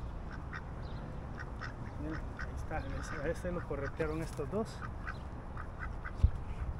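Ducks quack in a rapid, excited burst at a park pond in San Antonio, the calls clustered mid-clip amid steady outdoor ambience, with someone talking nearby over them.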